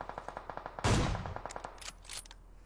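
Gunfire in the PUBG Battlegrounds video game: a quick run of evenly spaced shots, then a loud blast-like burst, then more scattered shots trailing off.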